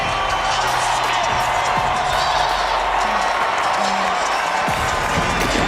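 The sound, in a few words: home crowd cheering at basketball starting lineup announcement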